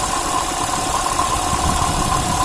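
Picked up through a mechanic's stethoscope near the supercharger pulley of a 2010 Audi S4 3.0 V6 supercharged engine, a steady, close mechanical whir with a constant hum and no rattle, alone.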